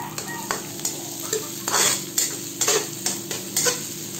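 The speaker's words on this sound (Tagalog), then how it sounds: "Maglagay na din tayo ng hiniwang patatas. Gisahin lamang natin yan ng 1 minuto." Sliced potatoes are stirred into tomatoes in a frying pan, with a steady sizzle under rhythmic scrapes and clinks of a spatula about every half second, close and clear.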